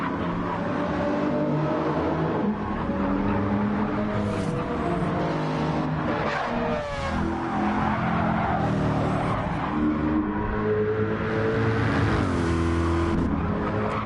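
In Gran Turismo 7, a 2017 Lexus RC F GT3 race car attacks a Mercedes. Loud engine roars rise and fall through gear changes, with tire squeal and other cars passing close throughout.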